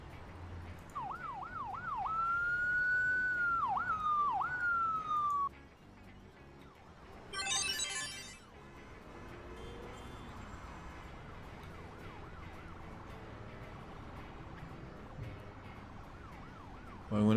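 An ambulance siren wails in the Emergency 4 video game with a West Coast Canadian mod, rising and falling for a few seconds before cutting off, followed by a short burst of noise and then quiet ambient sound.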